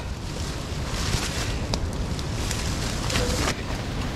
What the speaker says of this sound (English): It's very windy, if you can tell.